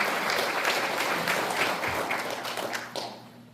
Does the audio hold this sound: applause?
yes